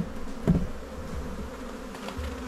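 A honeybee swarm buzzes steadily close by, a continuous low drone with a brief louder swell as a bee passes near, and no voices.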